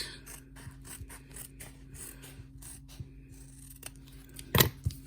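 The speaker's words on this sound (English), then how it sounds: "if we take a scissors to the other side" Scissors snip through the fabric of a disposable blood pressure cuff in a quick series of crisp cuts, close and fairly quiet, ending with a louder clatter.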